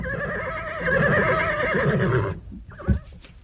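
A horse whinnies in a long, loud, wavering neigh, then falls quiet and gives a short snort, part of a radio drama scene set among mounted troops.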